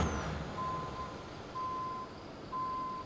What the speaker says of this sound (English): I think let's just reverse it back.